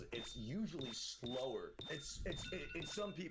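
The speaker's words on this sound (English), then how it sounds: "That was my alarm." A repeating high electronic alarm beep sounds steadily under continuous nearby conversation, pulsing in short regular tones throughout.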